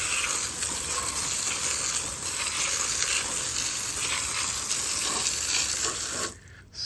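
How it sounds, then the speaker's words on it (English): A water hose sprays down a car wheel coated in Sonax wheel cleaner, rinsing off brake dust in a continuous close hiss of spray that cuts off abruptly near the end. "we'll give it a good hose off here to see how much stuff it takes off"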